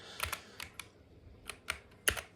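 Keys clack in irregular bursts on a DrunkDeer A75 keyboard with rapid-trigger magnetic switches, with sharp close clicks separated by short pauses and quiet in between.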